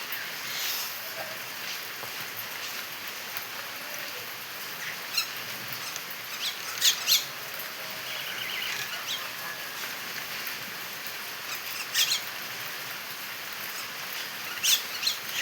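Steady rain hisses outdoors while birds feed in it, with a few faint, brief chirps and small clicks rising over the wet background; no one speaks.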